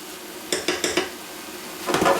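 Chicken for tacos is stirred in a pan: a quick series of four clattering utensil scrapes, then a pause and another burst of stirring, close up, over a faint sizzle with no voices.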